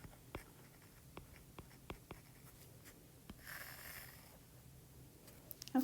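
Pen or marker scratching across a board or paper during a math lecture, a series of short, faint strokes and taps in a quiet room, with no talking.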